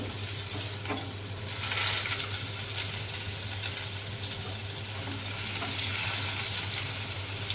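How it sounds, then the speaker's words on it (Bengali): Parboiled potatoes dropped into hot oil and frying, a continuous bright sizzle with a low steady hum beneath and occasional soft clinks, close and without voices. "আলুটা ভাজা হোক"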